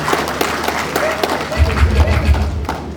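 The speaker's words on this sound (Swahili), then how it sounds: "Mpigieni makofi Dr. Mwinyi na Dr. Samia." An audience at an outdoor political gathering in Tanzania claps in a dense, continuous wash of applause, with low thumps and murmuring voices mixed in, building slightly in the second half.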